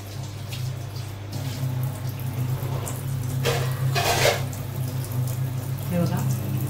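Tap water runs steadily into a colander as vegetables are washed, a continuous splashing rush with a few clatters of handling, while a low hum sits underneath and a voice speaks briefly.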